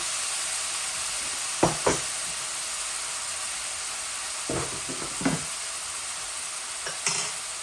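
Onion and garlic sizzle steadily in hot oil in a home kitchen, a constant bright hiss broken by a few short stirring scrapes, close and fairly quiet with no talking.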